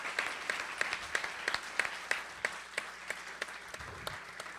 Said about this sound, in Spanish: Pido un fuerte aplauso para la doctora Pascale Vincent.